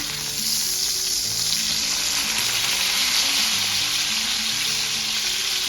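A ribeye steak sears in a pan over medium-high heat, producing a loud, even, continuous sizzle close by, with no distinct flip sound standing out.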